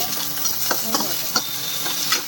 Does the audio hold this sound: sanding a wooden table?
no